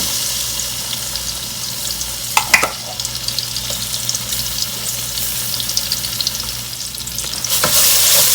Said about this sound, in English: To our oil, guys, to the oil, I'm going to add my tomato paste.